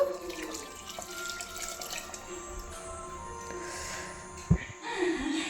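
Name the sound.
water being added to egg chicken sambar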